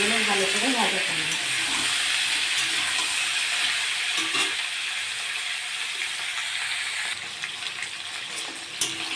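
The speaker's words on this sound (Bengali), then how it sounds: "পটলগুলো ভালো করে ভাজা করব।" Sliced pointed gourd (potol) seasoned with salt and turmeric frying in hot oil, giving a steady dense sizzle that runs loud throughout, with a brief voice at the start.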